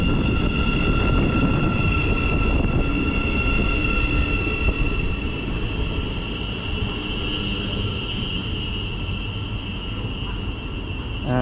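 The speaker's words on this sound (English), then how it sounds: "arriving in now is the 10:06 Thameslink service from Cambridge to Brighton. This is 700 152." A Thameslink Class 700 electric train on a Cambridge to Brighton service rolls into Stevenage station with a steady low rumble and sustained high-pitched whine throughout, loud and close.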